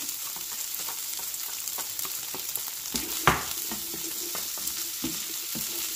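Small chopped onion frying with Beyond Meat sausage in a pan, a steady close sizzle with occasional stirring scrapes and one sharp clatter partway through.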